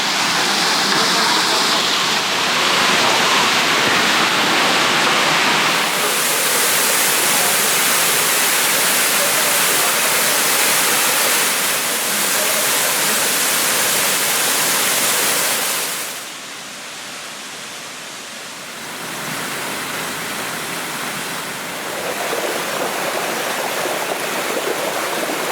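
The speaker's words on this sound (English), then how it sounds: "we need to go under the waterfall" The waterfall at Somersby Falls in Bouddi National Park roars as a loud, continuous rush of water, dipping briefly in level partway through, with no voices.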